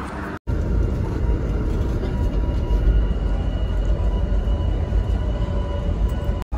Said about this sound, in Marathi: गाडी निघालेली आहे